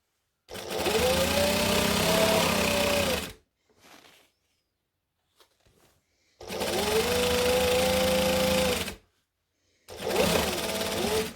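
A sewing machine stitches elastic into the waistband of Christmas shorts. It runs in two long, steady bursts of about three seconds each, then starts a third, with short quiet pauses between runs and no talking.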